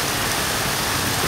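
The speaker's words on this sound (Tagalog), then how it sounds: "Panang ulan, no? Lakas ang ulan." Heavy rain pours steadily during a typhoon in Novaliches, Quezon City, a dense, even hiss of drops hitting surfaces with no voices.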